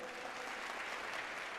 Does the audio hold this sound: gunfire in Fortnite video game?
no